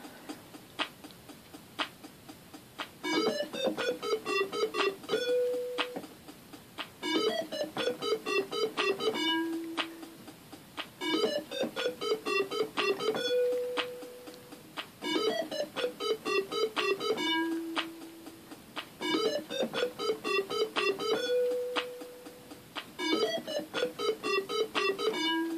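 Yamaha PSR-36 keyboard plays a synth patch, repeating a bright, bubbly arpeggiated phrase in regular bursts separated by short gaps, loud and upfront with no voices.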